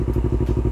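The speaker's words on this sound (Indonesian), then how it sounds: "itu akan meledak-ledak ketika kita deselerasi. Jadi seperti ini. Tuh, ada ledakan-ledakannya." Yamaha R25 sport motorcycle, 2019 model with a carbon aftermarket exhaust, idling and rumbling with rapid uneven crackles and pops on deceleration, close and fairly loud.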